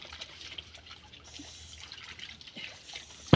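Water trickling and dribbling steadily while freshly dug taro roots are washed outdoors, quiet and continuous with a small splash at the end.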